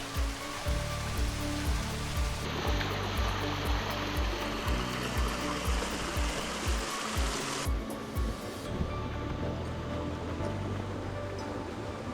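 A large waterfall pours into a mountain stream gorge, a dense, steady rushing roar with no breaks, with the spray close by.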